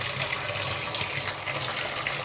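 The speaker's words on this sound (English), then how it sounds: "Then hot, very hot water, just pure hot water." Very hot water running steadily from a tap, a continuous close gushing splash with no pauses.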